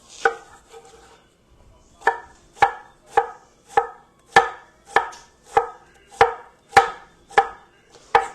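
A knife chops through an onion on a cutting board in sharp, evenly spaced strikes, about a dozen crisp close knocks after a slower start, with no talking.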